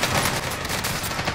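Rapid, continuous gunfire from a team-based shooter video game, dense bursts of automatic fire crackling steadily for over a second at close range with no talk.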